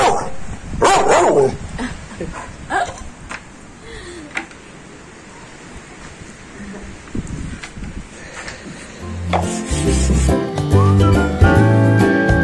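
A dog barks several times at close range during work restoring a motorhome, with other background noise around it and louder sounds toward the end.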